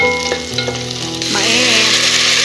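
Chopped garlic sizzles steadily in hot oil in a pan for a Filipino sautéed corn dish, a close, loud crackling hiss that runs throughout with music playing in the background.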